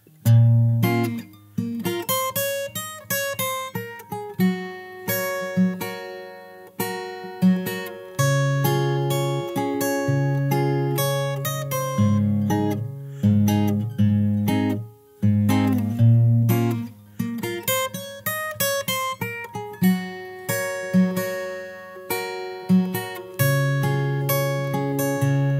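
Fingerstyle acoustic guitar plays a song's verse continuously, with a steady bass line under rapid plucked melody notes, close and clear, the four-bar pattern repeating, with no voices.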